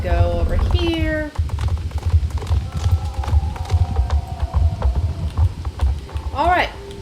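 Hooves of magic horses in the Star Stable Online video game clip-clop in a steady rhythm alongside game sounds, with a rising chime near the start and end, while a person talks over them throughout.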